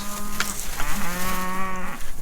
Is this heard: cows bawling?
yes